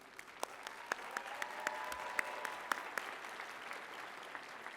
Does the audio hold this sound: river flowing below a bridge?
no